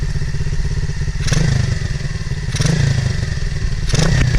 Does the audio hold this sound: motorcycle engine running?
yes